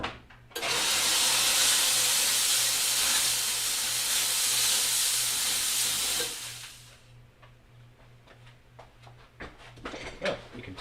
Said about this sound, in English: Quickly, I'm going to run over to the steamer.